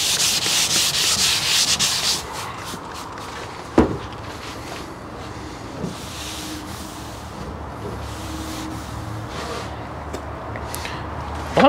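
A power sander works a metal surface with a patina look, loud and close at the start, then the sound drops to quieter intermittent rubbing with occasional knocks.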